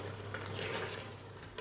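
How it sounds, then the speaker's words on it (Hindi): Chana dal and chicken are stir-fried in a pot over a high flame, giving a soft sizzle with brief scraping stirs of a spoon against the pan. "अब इसको हाई फ्लेम पर 5 से 10 मिनट के लिए मैं भूनूंगी।"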